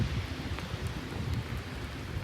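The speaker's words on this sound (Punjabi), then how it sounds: "ਬਾਰਿਸ਼ ਤੇਜ਼ ਹੁੰਦੀ ਜਾਂਦੀ ਪਈ ਆ" Dense, continuous heavy rain in Dubai hisses evenly with a low rumbling undertone, steady throughout with no voices.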